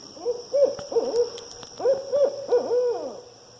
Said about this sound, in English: I've also walked into the middle of a conversation between a barred owl back there and another barred owl back here